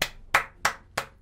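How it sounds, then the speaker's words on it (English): Four sharp hand claps land close and evenly spaced, each a crisp single slap with a brief decay, a small slow round of applause rather than a crowd. "Round of applause."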